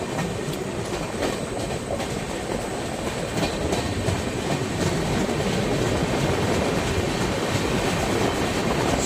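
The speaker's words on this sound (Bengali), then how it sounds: "আমাদের ট্রেন ধীরে ধীরে প্রবেশ করছে" The Brahmaputra Mail express rumbles and clatters steadily as it rolls slowly into Sultanganj station in Bihar, a continuous loud wash of wheel and carriage noise.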